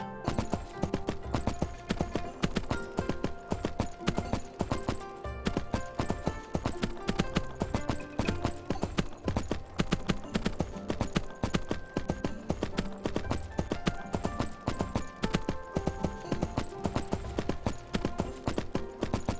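Steady clip-clop of a ridden horse's hooves in the game Three Kingdoms Zhao Yun, a quick even rhythm that runs loud and close the whole time over a constant game soundtrack.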